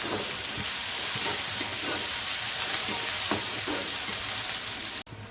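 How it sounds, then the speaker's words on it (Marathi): Chopped onion, tomato and green chillies sizzle and crackle in a ladleful of hot oil for a paneer bhurji, a steady close-up frying hiss with faint stirring scrapes, ending in a brief clunk. "मी तेल घेतलेलं 1 पळी आणि कांदा टोमॅटो आणि हिरव्या मिरच्या कट करून घालून घेतलंय आणि ह्याला चांगलं भाजून घ्यायचं"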